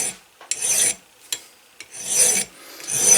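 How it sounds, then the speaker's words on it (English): Metal file rasping across the face of a budget leathercraft hammer in repeated strokes, each scrape a short hissy burst separated by brief pauses, close and clear with no talking. "As long as you keep your file moving in that arc, it shouldn't leave any big flat spots in there"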